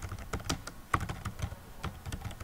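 Quick, uneven keystrokes on a computer keyboard as a form name is typed into Google Drive, close and clicky, with light taps clustered in short bursts and no talking.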